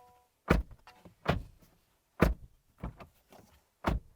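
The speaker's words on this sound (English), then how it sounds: "this is what the door sounds like." A 2024 Honda CR-V door shuts with a solid thunk several times, with pauses between, each a short dull closing sound.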